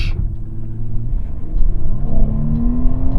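Mercedes-Benz W221 S-Class launching hard from a standstill, engine rumbling and revving up steadily as the car accelerates, a continuous rising drone with a close, heavy low end.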